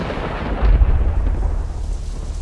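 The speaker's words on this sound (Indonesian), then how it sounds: "hujan turun sangat deras" Heavy rain hisses over a deep, rolling thunder rumble that swells loudly near the start and then slowly fades, part of an Indonesian horror radio drama set in a village in the late afternoon.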